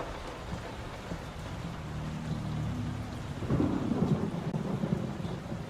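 Heavy rain pours steadily in the horror game Layers of Fear while deep thunder rumbles and swells, growing louder partway through, with no voices.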